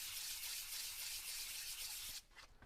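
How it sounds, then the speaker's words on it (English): Sandpaper of 320 grit rubbed in circles on a flat surface while working on a Pathe phonograph reproducer, giving a steady close hissing scrape that runs continuously and then stops abruptly near the end. "take a piece of 320 grit sandpaper, put it on a flat surface, and you will swirl in circles, clockwise, counterclockwise"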